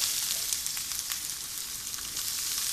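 Onion and garlic frying in a pan, a loud continuous close sizzle with crackling pops and light stirring, no voices.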